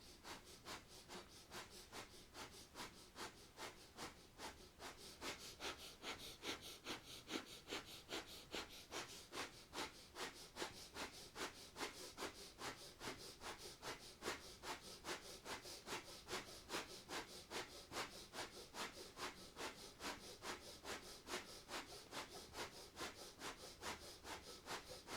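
Rapid rhythmic breath of fire during a kundalini yoga kriya, quick even nasal exhalations pulsing steadily for the whole stretch, close but quiet.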